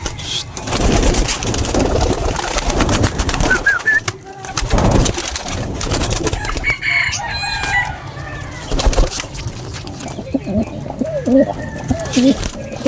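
Birds coo and call in short bursts amid outdoor noise, with people talking nearby and some rustling and handling sounds.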